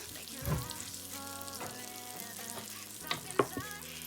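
A spice paste for chicken korma fries in oil on a stove, giving a close, steady sizzle with scattered pops and stirring scrapes, plus faint background tones, and no speech.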